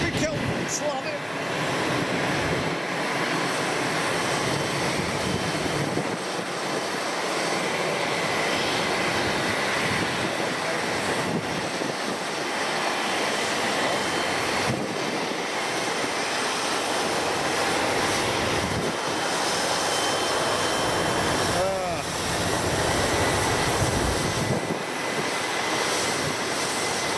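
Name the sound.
Boeing 777X jet aircraft arriving at Boeing Field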